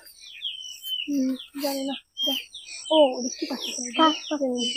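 A bird calls from above a nest, with repeated chirps and tweets in irregular bursts at close to moderate distance, mixed with a voice and other talk.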